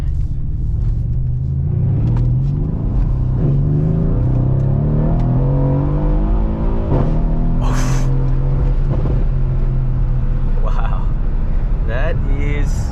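A 500hp V8 car engine revs hard on an open road, its deep rumble climbing in pitch through long pulls with brief shifts between them, loud and close inside the car, with a voice speaking over it at times.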